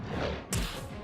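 A flashbang ability fires in the space strategy game Halcyon 6: one sudden bright burst lands over a dense, steady bed of game sound and music and fades quickly.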